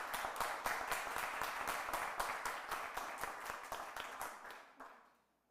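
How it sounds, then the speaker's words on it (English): Audience applause fills a city council meeting room, steady dense clapping for about five seconds before tapering off and fading out. "and for that, Mr. Malley, please begin the applaud for this, because that's very appreciated."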